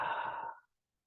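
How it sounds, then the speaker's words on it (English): A single deep, slow exhale during a guided belly-breathing meditation, close and soft, fading out after about half a second with no talk over it. "Do some belly breathing,"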